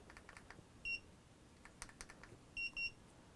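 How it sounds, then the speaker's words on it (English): A Hiboy S2R Plus electric scooter gives two short, high-pitched beeps in quick succession, near and clear, with faint clicks around them. "you'll hear it beep twice"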